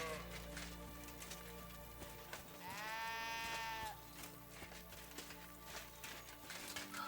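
A single sheep bleats at mid-distance in Kingdom Come: Deliverance II, a wavering bleat of about a second standing out over a steady ambient game soundscape with rain-like hiss and low hum.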